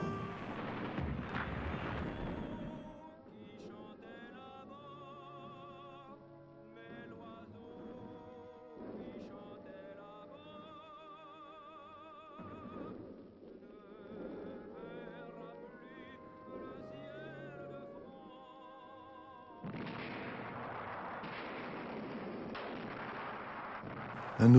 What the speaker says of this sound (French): 200 obus de gros calibre tombent sur le village